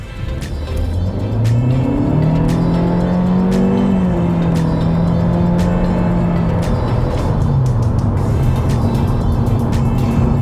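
A 2021 Honda Civic RS hatchback's engine revs hard accelerating from 0 to 100, pitch climbing through several gear changes, loud and close with road and wind noise.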